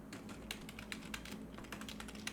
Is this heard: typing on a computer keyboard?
yes